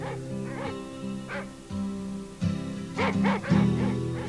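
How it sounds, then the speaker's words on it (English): A dog barks several times in short bursts, some in quick pairs, over a steady low hum. "Maybe a dog will come by and bark until someone notices."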